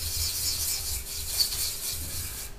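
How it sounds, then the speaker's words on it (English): A fine wet sanding sponge rubs over a plastic part of a 1/72 Italeri Jaguar T2 model kit, giving a steady, soft, close rasping hiss with no pauses. "finer sanding sponge"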